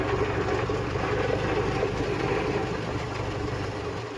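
A tractor engine idles steadily with a low, chugging rumble, close and constant throughout.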